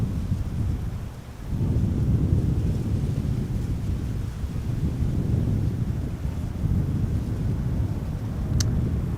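Wind at Amsterdam Schiphol Airport on a hot, sunny summer day, a steady low rumbling buffet across the microphone that dips briefly then holds, with a faint high chirp near the end and no talking.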